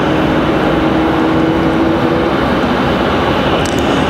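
Jet aircraft engines spool up at Raleigh-Durham airport, a steady, loud, broadband roar with a faint rising whine that holds throughout, with no voices over it.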